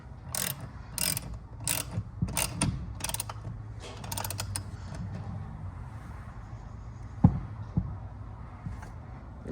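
A ratchet wrench clicks in quick bursts while tightening a bolt during an upgrade install on a 48V 1000W Crazy Cart XL in a garage, the close, sharp pawl clicks repeating over several seconds before fading to quieter handling noises and a single knock.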